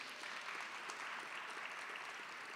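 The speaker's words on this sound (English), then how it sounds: "Give us a wave and give her a round of applause." Faint, distant applause from an audience at a Jamaica 60 launch event in Canada, honouring a provincial representative; even, continuous clapping heard from afar.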